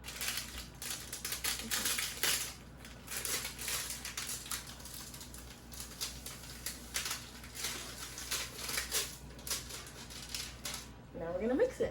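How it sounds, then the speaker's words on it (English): Scissors snip and crinkle through a paper sugar package for sugar cookie baking, a run of close, crisp clipping and rustling in uneven bursts over roughly twelve seconds. "The easiest way to open these packages is by using scissors so you don't lose any of your sugar."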